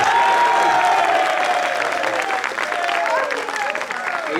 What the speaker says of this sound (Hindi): तालियां कहाँ से बज गई?